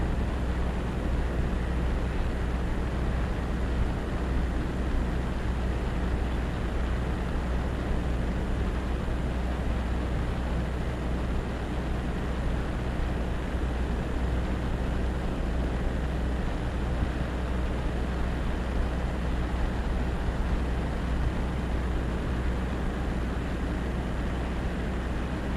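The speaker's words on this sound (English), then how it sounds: "Sorry about the tractor noise." A farm tractor working close by gives a steady, loud, unbroken drone with a deep low rumble that holds level throughout, with no talking over it.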